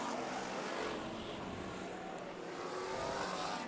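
American stock cars race on the Bakersfield dirt track, a continuous roar of engines at a distance with a broad, steady rumble and no break.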